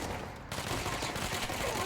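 Rapid gunfire from a weapon in the video game Control, a dense continuous burst that starts with a sharp jump in loudness and keeps going steadily with no pauses.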